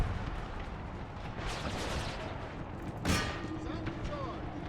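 Artillery from a Brothers vs. Brothers battle in Empire: Total War booms and crackles in a dense battle din, with a sharp, loud blast near the three-second mark over continuous rumbling, voices audible underneath.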